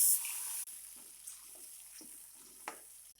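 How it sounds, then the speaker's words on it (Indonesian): Seasoning paste fries in a pan for a fried pork noodle dish, a close steady sizzle broken by short scraping stir strokes, with no talking. "Sekarang saya akan menggoreng bumbunya."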